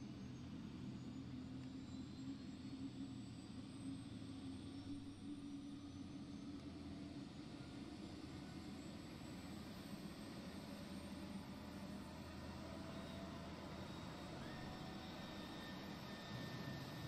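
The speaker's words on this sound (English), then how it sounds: "It doesn't take that long to start an F-35" Steady jet engine drone of an F-35B spooling up in a Microsoft Flight Simulator session at Marine Corps Air Station Beaufort, a constant loud whine and rumble holding evenly throughout with no talk.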